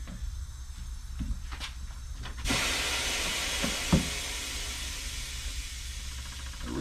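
A compressor-powered bead breaker on a Mayflower 950 tire machine releases a sudden loud air hiss partway through. It then keeps hissing steadily after a few quieter mechanical clunks.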